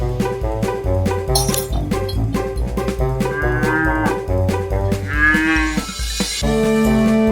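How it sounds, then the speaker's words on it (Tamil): A cow moos repeatedly in long, loud lowing calls, heard up close with faint clinking in the background. "பசு எப்படி கத்தும்?"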